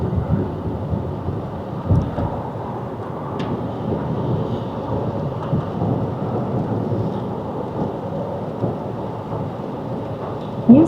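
Steady rain patters on a car windshield while driving, a continuous wash of droplets over low road rumble, with occasional soft knocks and faint navigation voice prompts.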